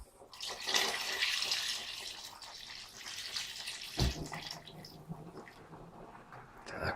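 Water poured into a pot for fish head soup, a close rushing and splashing pour that swells and fades, followed by a thud and lighter trickles.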